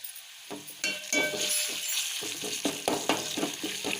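Ginger garlic paste and turmeric frying in a pan with fried onions, a steady close sizzle broken by repeated scraping stirs and light clinks of a spoon against metal, with no talking.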